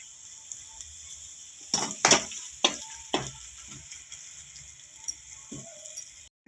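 Fenugreek leaves frying in a pan with onion for an egg curry, a constant high sizzle broken by several sharp crackles and pops, close and fairly loud, with no talk.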